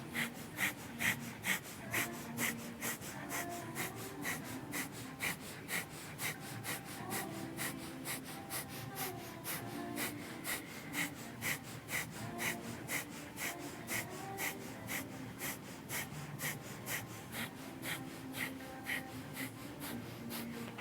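Powerful, rhythmic breath pumping during a Kundalini yoga kriya, forceful navel-driven exhalations repeating steadily and closely throughout over a soft musical background.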